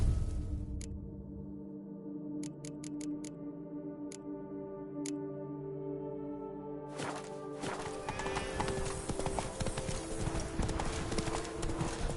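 A horse galloping in a video game, fast rhythmic hoofbeats drumming close and steady under a bed of game music and ambience.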